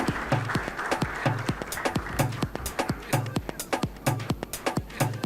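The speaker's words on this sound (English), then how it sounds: "Can we have a warm round of applause one more time" An audience at a budget analysis summit gives a round of applause, with sharp individual claps repeating in a loose, fairly loud rhythm, a few hands close by, and no talk over it.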